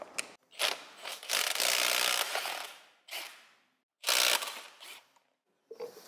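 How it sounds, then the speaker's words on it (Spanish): Metal tools work on the cover of a Vogelsang pump, making close ratcheting and grinding bursts, a long rasping stretch, then shorter clattering bouts separated by quiet gaps. "Pasaríamos a desmontar la tapa de la bomba."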